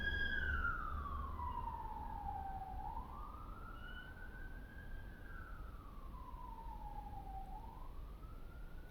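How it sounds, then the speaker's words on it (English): Emergency vehicle sirens outside wail in slow rising and falling cycles, heard from indoors at moderate distance over a steady low rumble. "Sirens."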